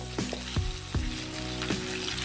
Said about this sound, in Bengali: এবার একসাথে ভেজে নেবো যতক্ষণ না সবজিগুলো দিয়ে কাঁচা গন্ধ চলে যাচ্ছে